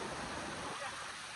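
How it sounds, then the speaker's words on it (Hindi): Water flows and rushes steadily at an outing spot, a dense broadband wash filling the short moment, faint and continuous. "दुनिया की आवाज तो पानी की आ रही"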